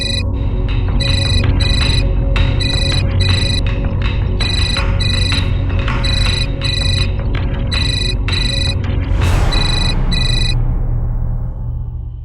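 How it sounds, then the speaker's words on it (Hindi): A telephone rings in a repeated electronic pattern of bright short bursts, loud and close, over a steady low hum. "जाओ फोन उठाओ, उसी का फोन होगा।"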